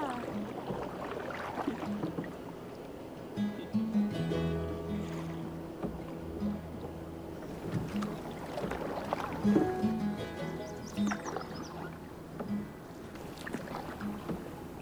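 Canoe paddling on the Yukon River, soft rhythmic paddle strokes and water swishes against a steady wind and water background, moderately quiet and close, with occasional faint tonal sounds and no voices.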